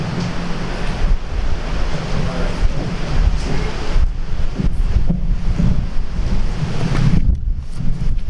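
Strong lakeside wind at an outdoor ribbon-cutting ceremony at Point Gratiot Park in Dunkirk, New York, buffets the microphone. It makes a loud, continuous roaring rumble with gusty surges throughout.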